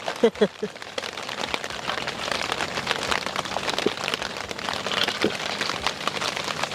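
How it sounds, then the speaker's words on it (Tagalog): Steady rain patters on a tent canopy close by at Angeles Campsite, a dense continuous drumming of drops with a few louder taps. "naririnig sa video yung patak ng ulan sa canopy"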